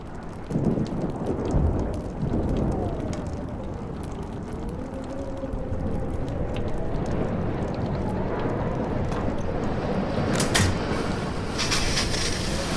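A thunderstorm in the video game Life is Strange: steady heavy rain pours throughout with rolling thunder rumbling underneath and a sharp crack of thunder near the end, loud and close.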